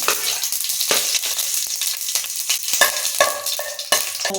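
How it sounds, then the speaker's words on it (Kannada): Dense, steady crackling and sizzling of mustard seeds in hot oil, with sharp pops and spits scattered throughout, close and fairly loud, no voices. "ಎಣ್ಣೆ ಕಾದಿದೆ ಸಾಸಿವೆ ಹಾಕೊಳ್ಳೋಣ ಅರ್ಧ ಸ್ಪೂನಷ್ಟು ಸಾಸಿವೆ ಹಾಕ್ತಾ ಇದ್ದೀನಿ"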